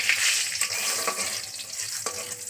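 Dried red chillies and five-spice seeds crackle in hot oil, a dense close hiss with a few sharp scrapes as a utensil stirs them.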